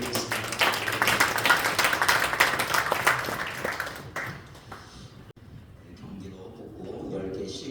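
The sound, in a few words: congregation applause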